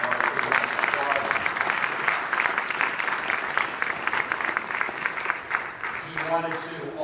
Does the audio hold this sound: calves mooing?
no